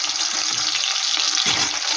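Parboiled potatoes fry in a pan for biryani with a continuous bright sizzle. A few soft stirring knocks sound beneath it.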